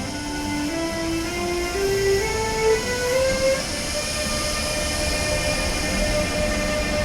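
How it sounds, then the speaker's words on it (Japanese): Locomotive-hauled long-distance train arriving at a station in Austria, its loud rolling rumble passing close by with a rising motor whine for several seconds, steady and continuous without voices. "ウィーン方面の列車ですごい機関車が来ましたよ"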